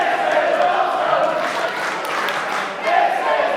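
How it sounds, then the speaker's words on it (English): A lively crowd roars and cheers steadily at a lucha libre wrestling show in Cardiff, a dense wash of noise that swells again near the end. "the crowd are going wild already"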